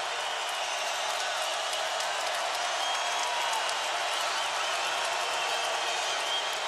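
A college basketball crowd cheers and applauds in a dense, continuous roar of clapping and voices that fills the arena at a steady level throughout.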